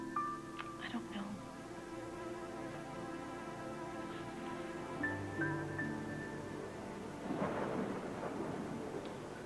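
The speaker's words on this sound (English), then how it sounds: "The wind's picking up." A fierce island storm rumbles with continuous low thunder and rain, with a heavier gust-like surge near the end and steady wind noise throughout, under faint background voices.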